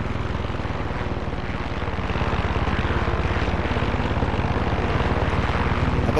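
A helicopter in the video game Far Cry 6: a steady, loud engine drone with a rapid pulsing rotor-like beat runs throughout, continuous and close, with no voices.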